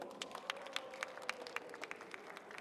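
An audience claps at a Korean science and creativity concert lesson audition as a teacher is welcomed to the stage, steady soft applause with distinct individual claps, moderately distant and alone.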